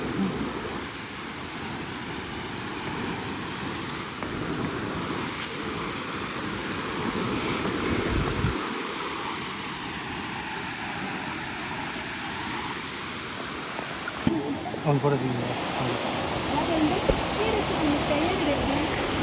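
River water rushes forcefully between rocks on the Sitanadi near Agumbe, a constant close roar with a person talking over it.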